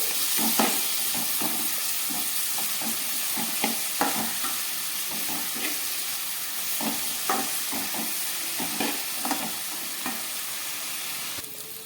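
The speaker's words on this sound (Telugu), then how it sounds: "ఆనియన్స్ కూడా వేసుకొని వీటిని కూడా గోల్డెన్ కలర్ వచ్చే వరకు ఫ్రై చేసుకోవాలి" Coarsely ground onions and green chillies fry in hot oil for fish curry, a steady loud sizzle and hiss with intermittent scraping stirs of a spoon against the pan, no voices.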